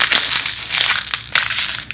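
An empty plastic water bottle is squeezed and crushed up close, giving loud crackling crinkles in two bursts with a short pause between, no talking.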